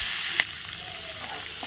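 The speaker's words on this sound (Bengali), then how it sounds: "তো কষানোটাও কিন্তু খুব সুন্দর হচ্ছে।" Spiced bori masala cooks down in a pan with a soft, steady sizzle and a faint tap of a spoon against the pan near the start.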